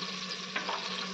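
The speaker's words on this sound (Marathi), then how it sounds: "तर आपला कांदा आणि टोमॅटो व्यवस्थित भाजतोय" Onion, tomato and garlic paste frying in an electric cooker, giving a steady close sizzle with a faint stirring scrape in the middle, no voices.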